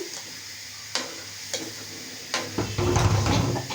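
Yogurt spooned into a cooking pot and stirred, with a few sharp utensil scrapes against the pot that build into a louder, steady wet stirring and sizzling near the end.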